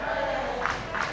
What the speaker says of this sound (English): St. Louis fans have not stopped cheering.